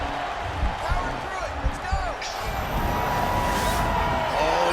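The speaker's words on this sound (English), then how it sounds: "Picks him up and slams him down." In the Burns vs Masvidal MMA bout, one fighter lifts the other out of an armbar and slams him onto the mat with a couple of heavy thuds, heard under crowd noise and a commentator talking.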